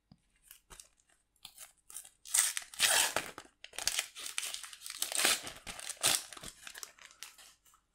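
A Topps UEFA Champions League 2018/19 sticker packet being torn and crinkled open up close, with bursts of crisp foil crackling and tearing, loud and uneven, with no talking.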